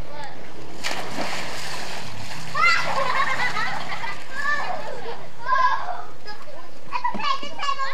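A kid cannonballs into a backyard pool, sending up a couple of bursts of splashing water while children shout and chatter throughout.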